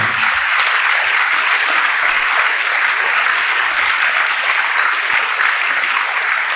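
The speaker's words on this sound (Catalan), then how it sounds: "un aplaudiment pels músics i un aplaudiment per tots vostès" Dense, steady applause from a large audience for the musicians at the Catalonia band festival in an auditorium, loud and sustained with no gaps for several seconds.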